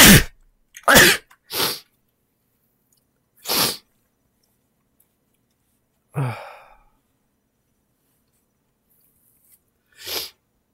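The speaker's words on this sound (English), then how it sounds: "My head was full of cats, so I had to sneeze." Several sharp sneezes burst out in a quiet room, loud and close, spaced apart with silence between, plus a breathy exhale midway.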